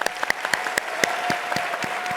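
An audience at a hackathon opening ceremony claps for a speaker leaving the stage, steady applause from a moderate crowd with several sharp individual claps standing out near the microphone.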